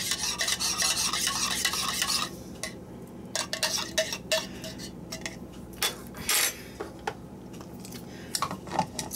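A spoon stirs a drink sweetened with liquid stevia in a cup, rapid clinking and scraping against the sides, then irregular taps and knocks of cup and utensil, close and clear with no talking.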